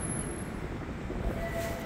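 A Montreal Metro MR73 train approaching through a station, a steady low rumble of rail noise with a faint high whine building toward the end, heard from the platform.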